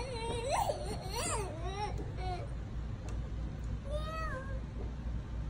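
A small child imitates a cat's meow at a Fourth of July gathering, with a few rising and falling meow-like cries in quick succession, then a softer one after a pause, over low background noise.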